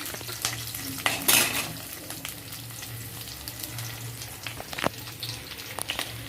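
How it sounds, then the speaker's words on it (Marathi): Curry leaves and coconut fry in a pan with ginger and garlic, a steady close sizzle broken by repeated scraping stirs and light clinks of a utensil against the pan. "थोडासा कढीपत्ता आता खोबरं टाकून घेणार आहे"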